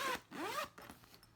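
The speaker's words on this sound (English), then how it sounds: "you can keep it unzipped on the top, or you can zip it across the top here" A zipper on a thrifted garment rasps briefly twice in quick pulls, close and quiet, followed by faint handling clicks.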